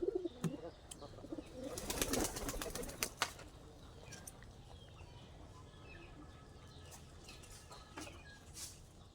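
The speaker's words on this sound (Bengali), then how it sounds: "দেখেন আরো আসতেছে কবুতর।" A flock of pigeons being fed flutters and flaps, with a loud burst of wingbeats early on and then scattered fluttering and faint cooing against quiet outdoor background.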